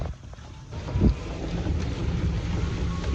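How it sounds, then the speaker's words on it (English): Steady wind roars and buffets the microphone while heavy rain hisses across a golf course in Prescott, Arizona during a thunderstorm, with a low continuous rumble and one brief louder gust. "Pouring rain."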